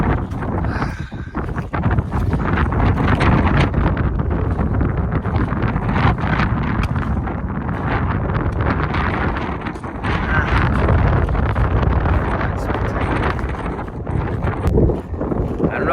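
Strong, gusty wind in a mountain valley buffets the microphone with a constant loud roar and rumble, easing briefly now and then.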